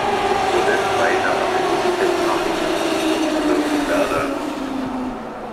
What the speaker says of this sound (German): Fahrender Zug auf Gleis 1, S61, nach Berlin.